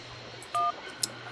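A telephone keypad in the Syberia video game gives a single clear dialing tone of about a fifth of a second, followed by a faint click, over a quiet background.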